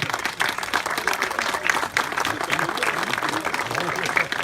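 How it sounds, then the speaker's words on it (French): A crowd claps for volunteers at an outdoor local ceremony, the applause continuous and moderately loud while voices murmur and talk underneath. "on peut les applaudir"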